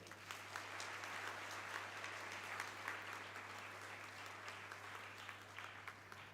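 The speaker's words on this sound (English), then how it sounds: "Let us all join together in giving a huge round of applause to Dr." Audience applause for Dr. G. Madhavan Nair at the inauguration of aerospace programs, sustained clapping from a crowd over a low steady electrical hum, fairly distant and even.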